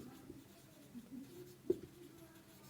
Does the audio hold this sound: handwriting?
yes